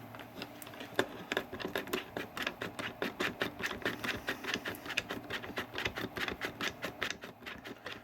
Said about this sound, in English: Screwing in easier, probably a little more directly done than the other one.